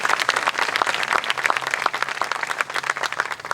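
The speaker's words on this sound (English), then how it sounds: "So let's give all of them a round of applause." Dense, sustained applause from an audience at a university event, many hands clapping steadily and fairly close for the whole stretch with no talk over it.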